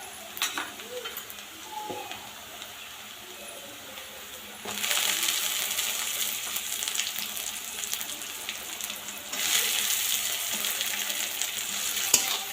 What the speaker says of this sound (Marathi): टोमॅटो छान असं परतून घेऊ।